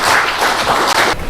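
An audience at an academic conference in a library conference hall gives a burst of loud, dense applause welcoming a speaker, close and continuous throughout.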